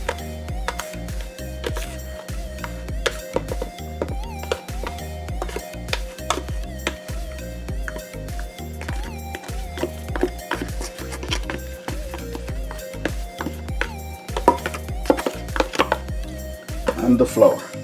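Cornmeal and flour are mixed together in a bowl for Jamaican-style southern fried catfish, a fast, steady run of rhythmic tapping and scraping that continues close-up for the whole stretch.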